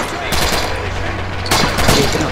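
Heavy gunfire rattles through a World War video game: a loud, continuous fusillade of rapid shots with a second burst swelling partway through, while a voice can be heard faintly in the mix.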